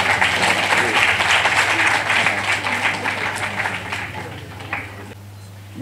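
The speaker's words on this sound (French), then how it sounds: "Les applaudissements, s'il vous plaît." Loud audience applause at a formal event of an environmental sciences institute in Senegal, gradually fading toward the end, with a low steady hum underneath.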